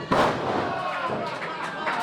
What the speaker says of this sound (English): A big slam.